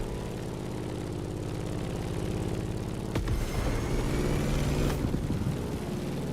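Airplane engine in The Crew Motorfest flying through turbulence near a volcano, a steady low propeller drone holding throughout, with a couple of sharp transient cracks around the middle and rougher rumble late.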